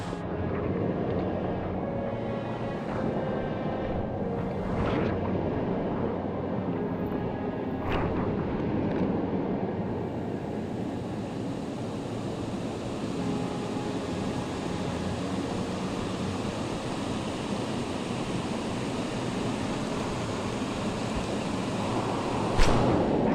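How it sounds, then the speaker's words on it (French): A steady, full roar of a waterfall on a wild river, continuous and close throughout, with no voices. "Il y a un bassin au milieu de la cascade."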